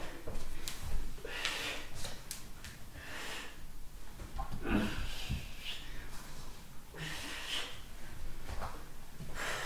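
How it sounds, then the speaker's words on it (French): Sharp, forceful exhalations during a weight-training session come in a few breathy bursts close to the mic, with faint background noise between them. "On expire."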